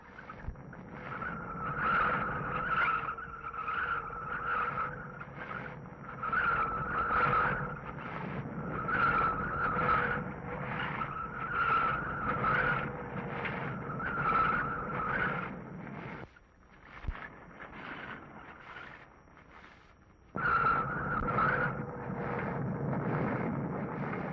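A car takes the tight hairpin turns of San Francisco's crooked street in 1955. Its tires squeal in repeated pulsing bursts over a steady engine drone. After a brief lull the squeal returns loudly.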